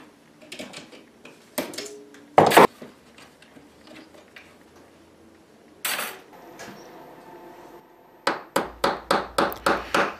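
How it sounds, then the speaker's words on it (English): A hammer taps wire flat, scattered light metallic knocks and clinks at first, then a closing run of about eight quick, evenly spaced ringing taps, close and moderately loud. "The wire is a little too fat to fit the grooves, so I tap it flat so that it fits"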